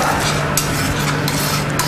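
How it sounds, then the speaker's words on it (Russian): Close, continuous stirring and scraping of a sauce with mustard and cream in a pan, with a faint sizzle underneath and a few louder scrapes at regular intervals. "Быстренько мішаємо."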